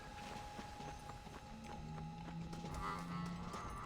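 Horse hooves clip-clopping at a walk in the Red Dead Redemption video game, a steady rhythmic clatter of hoofbeats under a sustained game music tone, with a short whinny partway through.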